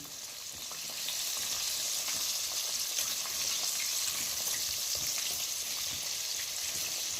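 Oxtail, coated twice, fries in a pan for Jamaican-style French fry oxtail, giving a steady, close, continuous sizzle with crackling pops and no voices.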